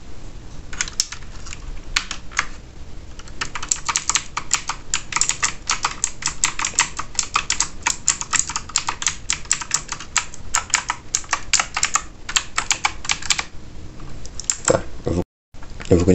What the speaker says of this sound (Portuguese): Ele é teclado mecânico,